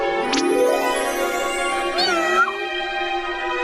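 A cartoon cat meows in a long, rising and falling wail followed by a second shorter cry, close and clear over a music bed.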